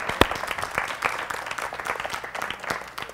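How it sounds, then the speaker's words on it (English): Church congregation clapping hands in praise: a short burst of continuous, fairly loud applause from a gathered crowd with a few sharp individual claps standing out. "Let's give our God a hand clap of praise."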